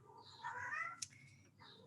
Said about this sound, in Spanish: no sé si escuchan, está mi gato cantando